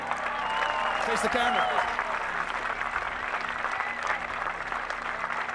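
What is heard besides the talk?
round of applause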